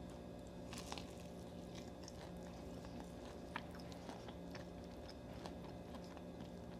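Close crunchy bites and wet chewing on a heart of palm fish sandwich with hot sauce, several soft crunches and mouth sounds spread over a quiet, steady room background.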